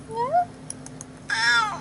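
A cat meows twice close by, a short rising-falling call followed after a pause by a longer, louder meow, with faint background hum.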